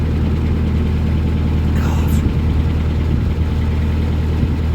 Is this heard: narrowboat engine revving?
yes